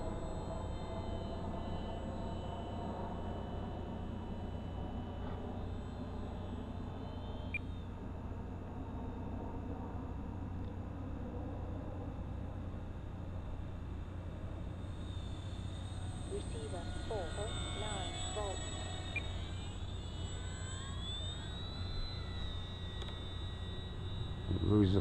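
An E-Flite P-51D Mustang 1.2 m electric RC plane with half flaps makes a slow flying pass, its steady motor and propeller whine holding faintly for the whole stretch, with a person talking over it.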